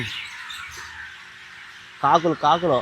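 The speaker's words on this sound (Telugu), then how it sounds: "కాకులు అన్ని రకాలు ఉన్నాయి ఈ ఏరియాలో" Quiet outdoor background, then three quick, harsh crow caws in close succession, loud and nearby.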